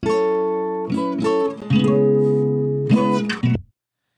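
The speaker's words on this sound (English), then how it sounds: "I have a guitar clip on track one" A strummed guitar plays several sustained chords with short pauses between them, loud and clear, then stops abruptly near the end.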